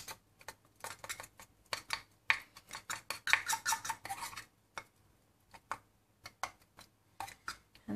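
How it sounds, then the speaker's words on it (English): A tool scrapes and taps against a container as catalyst is stirred quickly into a silicone mix for repairing a prop, a close run of rapid, uneven scratchy strokes with brief gaps. "So now we're going to mix the catalyst in nicely"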